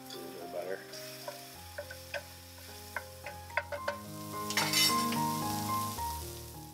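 Butter and garlic sizzling in a pan for chicken Marsala, a steady frying hiss punctuated by sharp clinks and scrapes of a utensil, with a brief murmur of voice.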